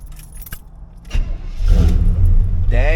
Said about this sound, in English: Let's see if this truck will even start without me giving it gas.